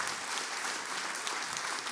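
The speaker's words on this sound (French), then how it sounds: "Les applaudissements sont à la hauteur de votre intervention" Brief, steady audience applause fills a conference hall after a talk, a dense even wash of many hands clapping with no single voice above it.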